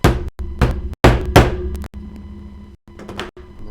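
A makeshift hammer taps repeatedly during a computer repair: a quick series of sharp, close knocks, several loud strikes followed by lighter ones.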